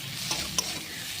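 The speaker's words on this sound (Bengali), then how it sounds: "মশলাগুলো একটু ভেজে নিলাম।" Ground spices, whole cumin, turmeric and salt fry in a pan for a vegetarian dhokar dalna, a soft continuous sizzle with two quick stirring clicks close by.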